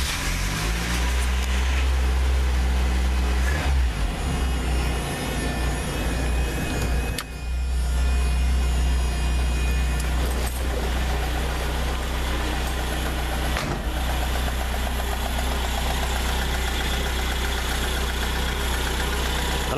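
A 1981 Honda Civic Wagon engine turns over and settles into a steady, loud idle close to the microphone, its low rumble holding on evenly with a brief dip partway through and no talking.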